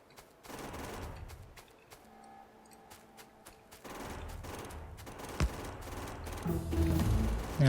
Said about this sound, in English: Now I'll just shoot the trees as I go.